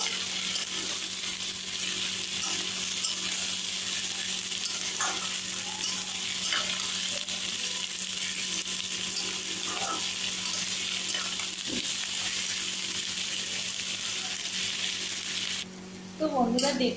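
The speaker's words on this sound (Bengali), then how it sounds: "এবারে পেঁয়াজটাকে ভালো করে আমি ফ্রাই করে নেব।" Onions frying in a pan for a chicken curry, a steady low sizzle with faint stirring clinks over a long stretch, a brief louder disturbance near the end.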